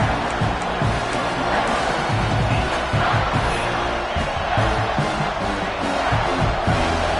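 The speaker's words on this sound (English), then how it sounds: "This crowd knows when to bring it." Stadium crowd noise in an NCAA football video game, a loud, dense, continuous roar of many voices, steady throughout.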